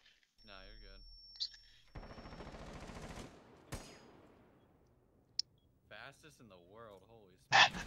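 Gunfire in a multiplayer shooter game comes as a dense, rapid automatic burst in the middle, with a few scattered single shots around it. Voices speak over and around the shooting.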